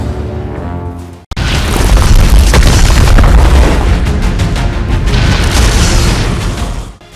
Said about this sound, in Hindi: फायरिंग की आवाज आ रही है